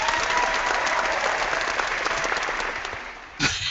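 Piped-in applause sound effect of a cheering crowd, dense clapping, loud and continuous, fading out before a short final burst at the end.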